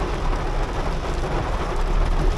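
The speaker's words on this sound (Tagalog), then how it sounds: "Malakas ang ulan." Heavy rain pours steadily, a loud, dense hiss of drops drumming on surfaces with a low rumble underneath, continuous and without voices.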